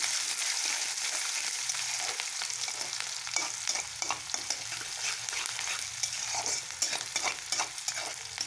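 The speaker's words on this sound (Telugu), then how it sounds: "వేగుతుందండి కూర" Pumpkin curry with onions and tomato fries in a pan, giving a steady close hiss of sizzling oil broken by repeated scraping and stirring strokes, with no voices over it.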